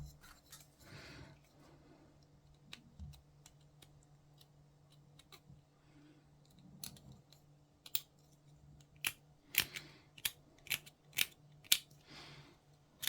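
A scalpel shaves thick mould lines off plastic Imperial Knight model kit parts, starting as quiet faint scraping, then a run of sharp, close clicks and ticks. No one speaks.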